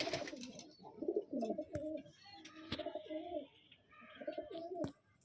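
A Madrasi pigeon coos repeatedly at close range, several throaty rolling phrases in a steady rhythm, with sharp clicks and light flutter between calls and no speech.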